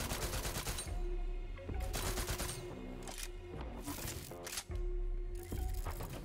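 Rapid automatic gunfire from a Borderlands 3 weapon hammers into a wall in long, steady bursts with brief pauses, loud and close, with game music underneath.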